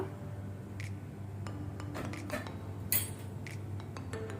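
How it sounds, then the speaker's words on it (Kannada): Metal clanks and clinks of a pressure cooker lid being opened after the pressure is released and pots handled close by, a series of sharp separate knocks over a low kitchen hum. "ಪ್ರೆಷರ್ ರಿಲೀಸ್ ಆದ ನಂತರ ಅದರ ಲಿಡ್ ತೆಗೆಯುವ."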